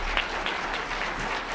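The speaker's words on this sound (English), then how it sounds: "That deserves a round of applause." Steady applause from an audience at a Martin Luther King Jr. birthday celebration, a dense wash of many hands clapping close by with no voices over it.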